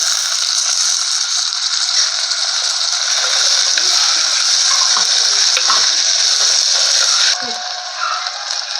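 Tomatoes go into a hot pan with onions and curry leaves for a green gram gravy, giving a loud continuous sizzle with occasional stirring clatter that eases near the end.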